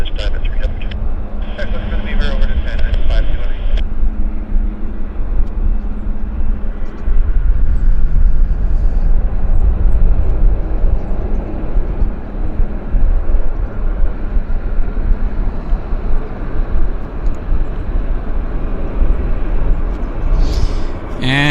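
A WestJet airliner departs Vancouver airport bound for Los Angeles, its engines producing a steady, broad jet roar that holds for the whole stretch with faint background voices.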